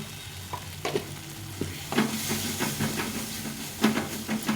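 Spice paste for a potato curry (aloor dom) fries in oil with a Kashmiri chilli added, while a spoon stirs the pan in repeated scraping strokes over a steady sizzle. It is close and moderately loud, with no one talking.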